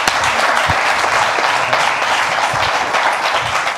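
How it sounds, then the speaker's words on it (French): An audience claps throughout a dense, continuous round of applause at an indoor hi-fi and home cinema presentation, steady and fairly loud with no pauses. "On va vous applaudir très, très bien"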